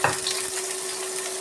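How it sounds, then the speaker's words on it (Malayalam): Green chilli, garlic, ginger and chopped coconut sauté in a pan for a sardine roast. A continuous, fairly loud frying hiss fills the short stretch, with a faint stirring scrape near the start. "നന്നായി ഒന്ന് വഴറ്റിയെടുക്കാം."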